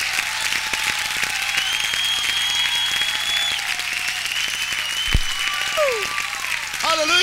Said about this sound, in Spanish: De gloria a Dios y aplauda.